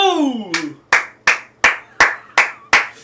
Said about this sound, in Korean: 다 같이 유튜브 시청자들도 박수 박수!